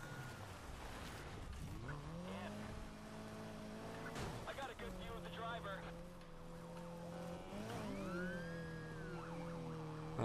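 Police sirens wail and sweep in a Need for Speed Heat chase, overlapping wavering tones rising and falling over engine roar, loud and close throughout with a player talking.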